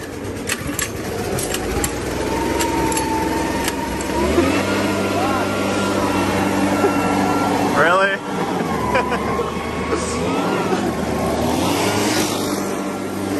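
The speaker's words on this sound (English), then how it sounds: "this is a four-stroke engine, twice the displacement" A pocket bike's four-stroke engine runs steadily, a mid-pitched drone that rises briefly in revs, heard under nearly constant talk close by.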